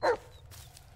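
Dog in the horror video game Blair Witch, one short, moderately loud bark at the start, then a faint, low background rumble with no further barks.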